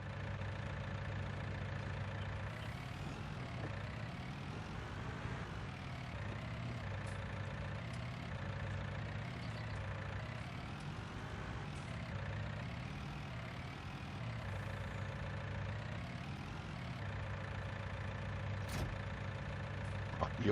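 A John Deere tractor engine idles steadily in Farming Simulator 19, a continuous low mechanical drone with faint knocking that holds at an even level throughout.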